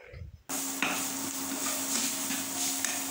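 Ginger and fried prawns get stirred in a pan, a close, steady frying hiss broken by scrapes and light knocks of the spatula against the metal.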